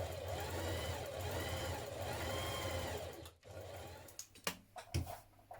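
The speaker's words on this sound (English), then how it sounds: "So we're stay stitching away from the edge." A sewing machine runs steadily as it stay stitches near the raw edge of jumpsuit fabric pieces, a continuous mechanical whir that stops after about three seconds, followed by a few soft handling clicks and thumps.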